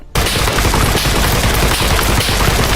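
Relentless full-auto gunfire from a weapon in the VR video game Geronimo VR, a loud, dense, unbroken burst of rapid shots lasting nearly three seconds with no talk.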